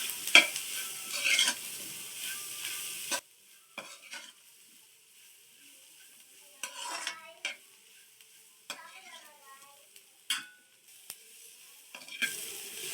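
Cassava pieces are stirred in hot masala and oil, with a quiet sizzle punctuated by several sharp scraping strokes of a spoon against the pan, close and without talk.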